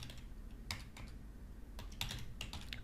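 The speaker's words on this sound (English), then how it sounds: "I can type this." Typing on a computer keyboard, quiet close key clicks in short irregular bursts over a low steady room hum, with no voices.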